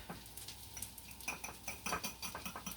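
A knife scoops and spreads topping across the cut sides of brioche burger buns for broccoli cheese burgers, giving soft irregular scrapes and light ticks, quiet and close, with no talking.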